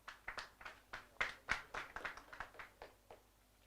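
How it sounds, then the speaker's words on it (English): Scattered hand claps from an audience at an annual general meeting, applauding a serving committee: about a dozen distinct, faint claps in an uneven rhythm, sounding thin and sparse rather than like a full round of applause. "So I think you can clap for them."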